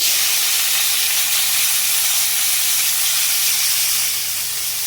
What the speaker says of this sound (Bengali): কড়াতে তেল দিয়ে দিয়েছি চিংড়ি মাছটাকে ভেজে নেবো